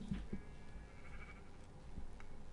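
A sheep bleats faintly in the Minecraft video game, short quiet calls over a low, muffled background without speech.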